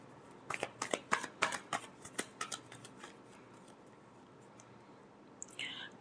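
Tarot cards are shuffled by hand, a quick close run of crisp riffling flicks for about two seconds, then quiet, with a faint rustle near the end.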